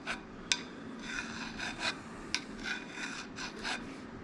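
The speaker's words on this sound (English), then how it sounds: "I'm just pushing up a little wire edge there" A woodturning tool is sharpened to push up a wire edge, heard as repeated soft, rasping rubs in an uneven rhythm, fairly faint and close, with no voices.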